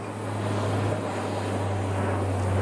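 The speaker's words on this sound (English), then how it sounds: "That sounds like a Dash 8 over the top of me." A Dash 8 turboprop airliner passes overhead near King County International Airport, Boeing Field, giving a steady, loud low drone with a strong tonal hum that holds throughout and swells slightly toward the end, with no talking.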